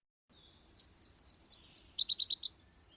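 A Nashville warbler sings a clear two-part song: a series of high, sweet paired notes followed by a quicker, lower trill that drops at the end, close and alone against a quiet background.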